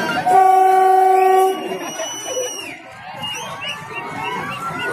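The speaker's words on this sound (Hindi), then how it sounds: "ये ट्रेन चल दी फ्रेंड्स, ठीक 3 बजे अपने ट्रेन निर्धारित समय से डिपार्ट होती" A flower-decorated train departing on the newly inaugurated Lakhimpur–Sitapur section: a loud sustained horn blast opens, followed by rumbling movement and crowd noise in the background.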